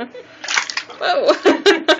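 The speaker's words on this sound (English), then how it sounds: "He's splashing. He's splashing." A small child splashes water in a bath, giving bursts of close sloshing and slapping, with voices and child sounds mixed in.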